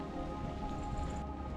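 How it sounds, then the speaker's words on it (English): Steady rain falling outdoors on the Appalachian Trail in cold weather, a dense, even hiss of drops on surfaces all around, continuous and fairly close, with no voices. "it's cold and rainy out here"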